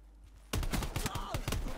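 Shotgun blasts in the video game Black Ops 4: after a quiet half second, a rapid series of loud, close booming shots crowded together.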